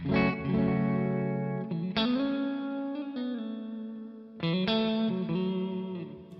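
Clean electric guitar chords through a Victory amp ring out with a reverb tail, a few strums sustaining and decaying, with no voices.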